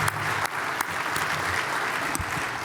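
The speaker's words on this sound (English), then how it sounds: "Let's give one more round of applause, please" Steady, full applause from a conference audience at an intelligence summit, a dense wash of many hands clapping at an even level throughout.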